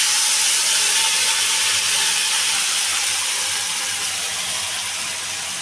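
Spice paste hitting hot oil tempered with nigella seeds in a wok, a loud, dense, steady sizzling hiss that fades slightly as it settles, close and continuous with no voices.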